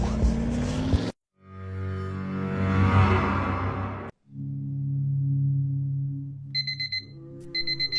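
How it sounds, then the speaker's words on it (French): An alarm clock rings in short repeated electronic beeps near the end, after a stretch of loud sustained droning tones broken by abrupt silences. "il y a bien un truc que je déteste, c'est quand mon réveil sonne"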